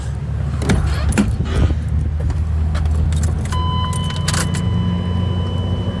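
A Chevrolet Suburban's engine, running rich and needing to pass smog, rumbles steadily with a low, continuous drone, while keys jangle and rattle close by at the start.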